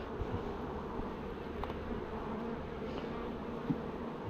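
Honeybees buzz steadily around hive frames during a swarm transfer, a dense, continuous, close drone of many insects with no talking.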